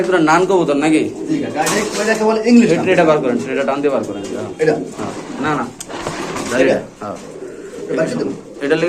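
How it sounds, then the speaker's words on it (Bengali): Large pigeons kept for sale coo in low, rolling notes, mostly buried under ongoing conversation from nearby people. "একদম বড় সাইজের কবুতর"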